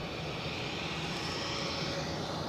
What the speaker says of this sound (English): Lufthansa on final approach. A321, not a Neo, a 200 series.